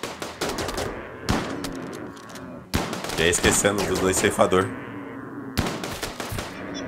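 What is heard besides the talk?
gunfire in the video game Rimworld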